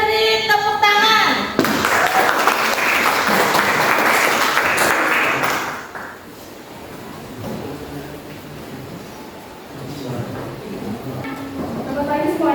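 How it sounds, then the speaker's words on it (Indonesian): Classroom applause for a group presentation, a short burst of clapping after a voice speaks, loud and close for a few seconds, then dying away into quieter talk among students. "Kita beri tepuk tangan."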